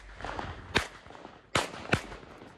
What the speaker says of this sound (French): Le bambou, lui, ne survivra pas à l'explosion.